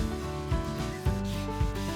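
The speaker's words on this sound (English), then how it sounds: "I even did hand sanding." Wood from old shelves, being made into a tambour table, is sanded by hand in steady back-and-forth strokes, a close, soft rasping rub with about three rhythmic passes and no talking.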